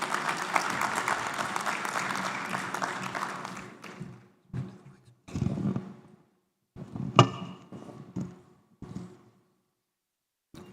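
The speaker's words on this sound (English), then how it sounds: "So, can you give Prof a round of applause again?" An audience at an education sector conference claps for a professor in a loud, sustained round of applause that fades after about four seconds, followed by scattered isolated claps and knocks.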